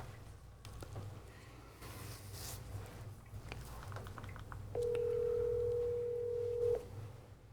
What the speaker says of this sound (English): Let's make the call.